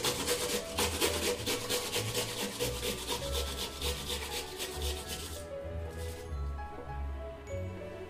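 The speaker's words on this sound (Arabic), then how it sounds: "غادي نحكو عليها البصلة، البصلة بيضة باش متطلقش لينا المرورة" A white onion rubbed against a grater, a rapid rhythmic rasping that runs steadily and close, then eases off near the end, with no voices.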